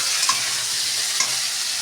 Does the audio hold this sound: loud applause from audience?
no